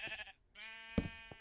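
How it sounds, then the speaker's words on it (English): A video game sheep bleats twice in quick succession, wavering and fairly quiet, with a soft click between the bleats. "I'm sorry if you guys are annoyed by the sheep in the background."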